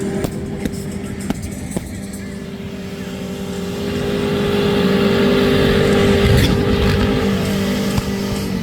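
A race car engine at night on a nitrous-assisted run, a loud sustained drone that builds and swells as it accelerates, with a few faint clicks on top and no talk.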